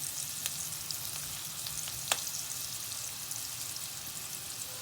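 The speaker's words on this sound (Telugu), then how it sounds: "ఇక హై ఫ్లేమ్లోనే ఉంచాలి, గోల్డెన్ బ్రౌన్ వచ్చే వరకు దీన్ని ఫ్రై చేయండి." Maggi rolls frying in hot oil on a high flame, a steady soft sizzle with faint crackles and one sharp pop, no talking.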